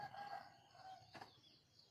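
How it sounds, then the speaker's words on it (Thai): A rooster crows at a distance, a brief strained call that rises and fades against a quiet background, with a faint thud partway through. "นี่แต่เสียงไก่"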